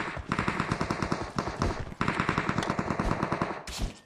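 Rapid sustained bursts of automatic SMG gunfire in PUBG Mobile zombie mode, two long strings of fast shots with a short pause between, loud and close.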